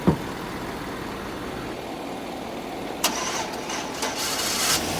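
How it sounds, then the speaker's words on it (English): A pickup truck engine cranks and catches after a jumpstart, with a sharp starter burst at the outset, a steady rumble, and further revving bursts toward the end, close and loud with no talk. "let's fire up this truck one more time and it'll start"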